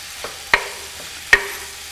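Chili and bell peppers dropped into a hot pan for liver tacos, a faint background sizzle broken by two sharp metallic clinks of a utensil, no voices.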